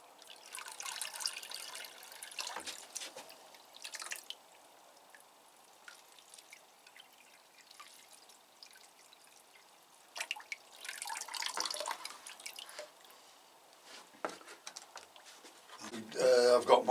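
Orchids being watered in a greenhouse, splashing and trickling water coming in bursts with quieter dripping between them, near and moderately loud, with faint background sounds.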